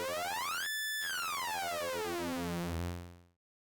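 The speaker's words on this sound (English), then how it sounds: "this specific combination of sounds gives me kind of like a hollow arcadey style sound" Hollow, arcade-style tone from Ableton's Analog synth with phase distortion, bright and buzzy with rich overtones. It cuts out briefly, returns as a sliding, sweeping tone, then fades away near the end.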